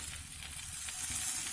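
Stuffed eggplant (bharwa baigan) roasting in a pan, village style, gives a steady, close hiss of sizzling that runs without a break under no talk.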